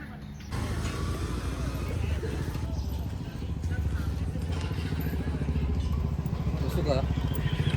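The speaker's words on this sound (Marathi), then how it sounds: "एक सेक्सी गाडी दिसली आहे मला. बाईक आहे मस्त एकदम." A motorcycle engine runs steadily and fairly loud for nearly the whole stretch, a continuous low rumble with traffic-like noise around it and no clear voices over it.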